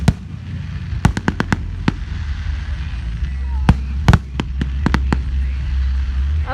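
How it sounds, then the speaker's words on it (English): Fireworks show heard from a distance, a quick series of sharp pops and crackling bursts in clusters, separated by quieter stretches of low background rumble. "I like those fireworks too."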